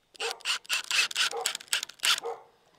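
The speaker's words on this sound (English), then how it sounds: "Olive's barking, so I think the guest in the farmhouse is back." A dog barks at a farmhouse as a car returns, a close, sharp series of about seven quick barks in an irregular rhythm, alone with no talk.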